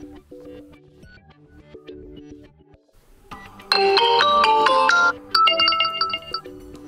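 A Huawei Nova 8i ringtone plays: a soft low melody first, then a bright, loud chiming tune that stops briefly and starts again.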